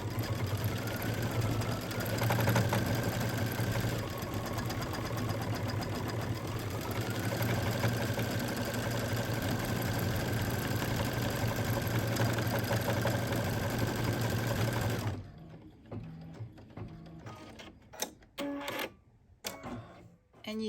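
An embroidery sewing machine stitches out a design with a fast, steady mechanical chatter and a low motor hum. It runs continuously for about fifteen seconds, then stops and leaves scattered faint clicks and handling noises.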